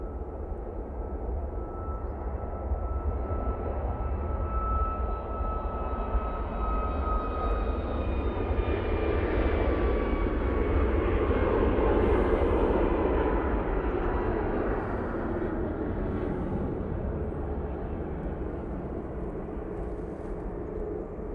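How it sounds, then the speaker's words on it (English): A Ryanair Boeing 737 MAX 8 jet roars through its takeoff roll at Manchester Airport, a loud, continuous broadband engine rumble with whining tones that swells toward the middle and then eases slightly as it pulls away. "Ryanair 737 MAX 8."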